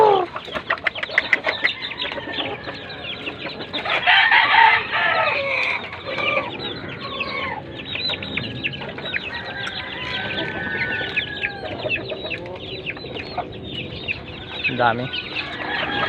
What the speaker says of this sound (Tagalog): ang dami ng inahin dito